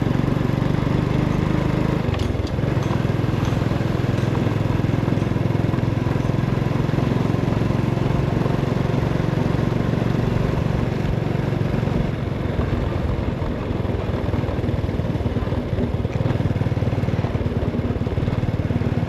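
Honda Dream motorcycle riding along a road toward Sabay Beach in Southeast Asia, a steady close engine drone with wind rush, holding even for the whole stretch with a brief dip early on and no talk.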